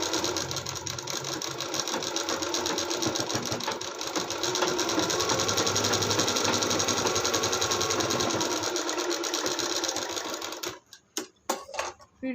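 A sewing machine stitches a hook strip onto a blouse in a fast continuous rattling run for about ten seconds, then stops and a few short bursts of stitching follow.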